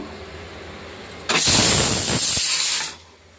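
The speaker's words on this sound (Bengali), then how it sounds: "ভাতটা হয়ে গেছে, সিটি মেরে দিয়েছে" Pressure cooker on a kitchen stove blowing off steam after cooking rice: a loud, steady hiss that starts suddenly, holds for about a second and a half, then cuts off, with no talk over it.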